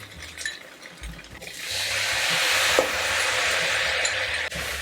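Squid stir-fried in a wok, a broad steady sizzle that swells after a clank of the pan, with occasional light scraping and clinks, no talk.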